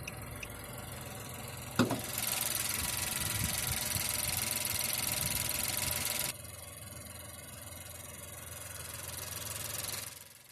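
A 2016 Nissan Note N-TEC's 1.2-liter naturally aspirated inline three-cylinder engine idles as a steady, fairly close hum under the hood, with a brief clunk early on and a broad hiss that drops away partway through.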